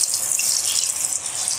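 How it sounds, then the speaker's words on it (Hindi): Potato french fries being dropped into hot oil in a kadhai, giving a continuous bright hissing sizzle that stays even and fairly loud throughout, with no talking. "इसे फ्रेंच फ्राई को डालते जाएंगे"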